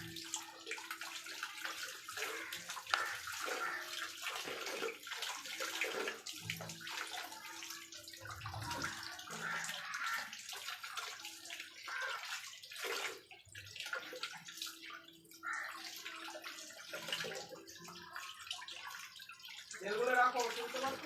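Water runs steadily from a tap while a fish is washed, a continuous splashing rush with irregular drips and gurgles, near and fairly loud, mixed with household voices talking over it.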